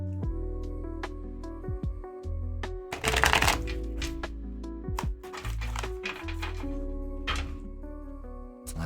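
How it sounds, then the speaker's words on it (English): Tarot cards are shuffled by hand during a reading, giving repeated riffling and flicking bursts close up, heard alone over a steady tonal background hum. "Let's get these cards nice and shuffled for you."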